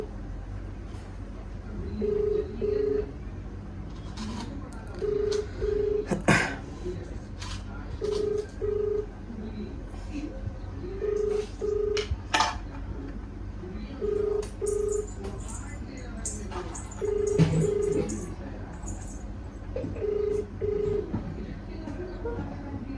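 A phone call ringing out while the caller waits for an answer: a repeating double-beep ringback tone in an even rhythm throughout, with a person talking intermittently over it.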